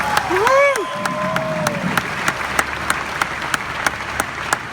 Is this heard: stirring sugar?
no